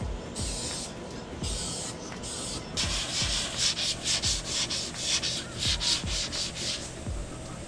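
Wet sanding of the first paint coat on a Mustang front end: close, steady strokes of abrasive rubbing back and forth in a regular rhythm, growing louder and harsher partway through, with no talking.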